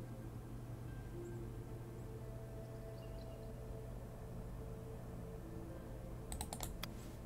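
Computer mouse clicks while playing the city-building game Synergy: a quick burst of several sharp clicks near the end over a quiet hum, with no talk.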